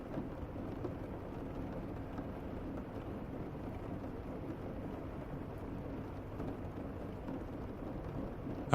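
Steady rain falls with low rumbling thunder, a continuous dense wash of sound that stays even and fairly soft throughout, with no voices.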